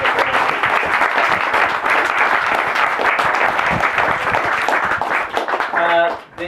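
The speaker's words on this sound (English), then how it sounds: "let's have a round of applause for the Executive Committee of Casa" A crowd applauds the executive committee at an end-of-year party, with loud, sustained clapping that runs nearly the whole time, mixed with voices, before dropping away at the end.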